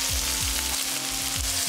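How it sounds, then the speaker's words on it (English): Tomatoes stir-fried in a hot wok for yin yang fried rice give off a steady, close sizzle, with a few scraping strokes of the spatula recurring through it. "炒咗啲番茄汁出嚟先吓。"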